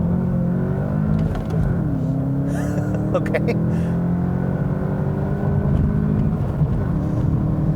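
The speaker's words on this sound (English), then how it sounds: "Let's try a quick little 0 to 60 here. Ooh, wheel hop for days." A 2019 Volkswagen Jetta GLI sport sedan accelerates hard from a standstill toward 60, its engine note climbing steadily in pitch through the run with wheel hop, loud and close inside the cabin, while a voice briefly speaks.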